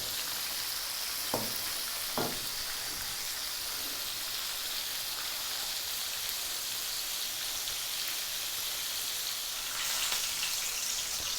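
A first batch of fish fries in hot oil for a sweet and sour dish, a steady close crackling sizzle with a couple of brief clinks early on and no talking.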